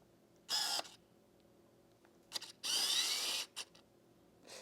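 Whirring, grinding focus motor of a Tamron 70-200 f/2.8 LD Di SP lens without image stabilization, heard close in two main bursts, a brief one and then a longer one nearly a second long, with small clicks between them in a quiet room.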